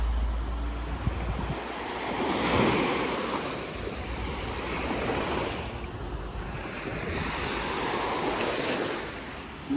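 Sea waves roll in slow, swelling surges onto a sandy beach of fine pebbles at a resort in Alanya, Turkey, with soft wind noise and no voices.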